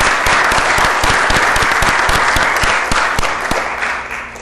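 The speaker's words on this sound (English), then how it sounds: "So I think that deserves another round of applause." Dense, loud applause from a crowd at a NASDAQ closing bell ceremony for Given Imaging, continuous rapid clapping that tapers slightly toward the end.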